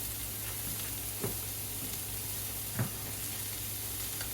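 Onions sizzle in butter in a pan while cabbage is cooked, a steady, fairly quiet frying hiss with two soft clinks of a utensil. No voices.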